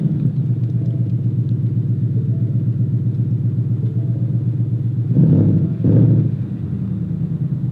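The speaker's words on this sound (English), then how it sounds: "you start it up, you push the clutch, the brake, and you push this button." A 2019 Ford Mustang GT runs at a steady, deep idle with a low rumble throughout. It swells briefly twice near the end, like light revs, and no one speaks.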